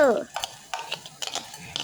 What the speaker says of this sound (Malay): kita masuk bahan kisar tadi dalam periuk